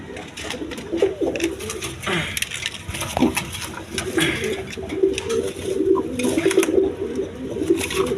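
Pigeons for sale at a market coo repeatedly in soft, throaty bursts, with scattered clatter and handling noises close by.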